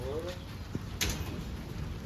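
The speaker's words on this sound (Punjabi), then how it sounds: "ਮੀਂਹ ਕਿੰਨੀ ਤੇਜ਼ ਆ ਗਿਆ ਓਏ ਇੱਕੋ ਲਖਤ ਆ ਗਿਆ ਮੀਂਹ" Steady broadband hiss of heavy rain pouring down throughout, with a brief knock and faint voices in the background.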